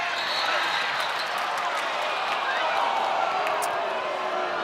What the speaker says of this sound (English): Crowd didn't like that.